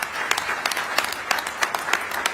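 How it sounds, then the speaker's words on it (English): A panel-discussion audience breaks into brief, dense applause, many hands clapping together close by for a couple of seconds. "Give yourselves a round of applause."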